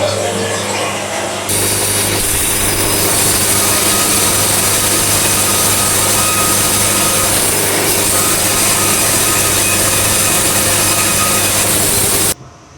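A sawmill blade running through a log at a fast feed rate, a loud continuous high whine and rasp that holds steady for about eleven seconds before cutting off abruptly.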